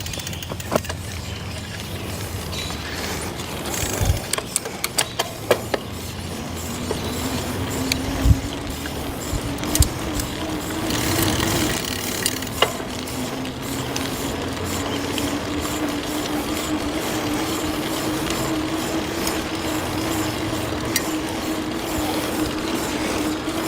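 A VEVOR mountain bike freewheels on a ride, its rear hub ratcheting in a fast continuous clicking, with wind and rolling rumble underneath and a few louder knocks and bumps along the way.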